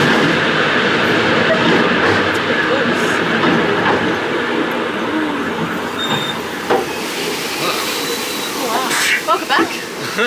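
The Scenic World steep incline railway train rumbles and rattles along its track in a continuous roar, with people talking and exclaiming faintly over the noise.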